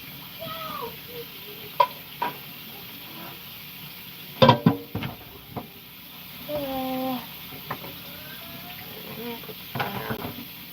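Meat stirred and sizzling in a pot on a home stove, with scraping stirs, clinks of a utensil and soft frying, while a person talks intermittently.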